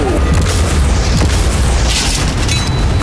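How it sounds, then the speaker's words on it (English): Cannons fire continuously at a yacht in a game, a dense, loud barrage of booming blasts and bursts with a heavy low rumble throughout, with no talking. "These cannons are tearing me up."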